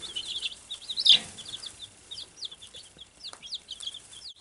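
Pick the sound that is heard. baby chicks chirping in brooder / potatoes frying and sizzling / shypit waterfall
baby chicks chirping in brooder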